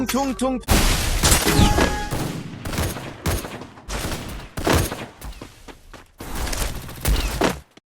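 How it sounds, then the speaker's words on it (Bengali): Bursts of video game gunfire come in sharp, loud volleys with booming impacts, over and over across several seconds, alongside brief in-game death sounds and a voice talking over the action. "তোমাদের দেখাবো যে কিরকম সাউন্ড হয় মরলে আর গুলি করলে"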